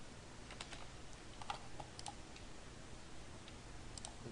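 Quiet typing on a computer keyboard while writing a C# calculator program, scattered light key clicks in irregular bursts over a faint steady hum, no voices.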